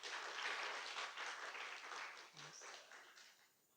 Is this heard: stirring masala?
no